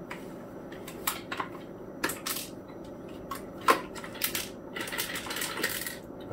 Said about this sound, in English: It fell inside that hole and now it's just rattling around in there.